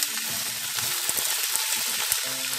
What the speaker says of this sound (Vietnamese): Rồi tiếp theo là mình sẽ cho cái phần cải mà lá các bạn, mình cho nó vào luôn nhé.